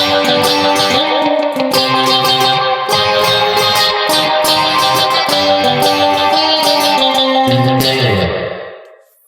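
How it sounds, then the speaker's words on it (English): Electric guitar plays the chorus vocal melody as a chord-melody part of stacked three-note chords and dyads through chorus and reverb effects, steady and full for about eight seconds, then ringing out and fading at the end. "I will be playing the following part on electric guitar."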